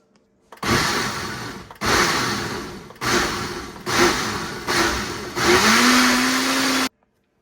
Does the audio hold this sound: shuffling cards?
no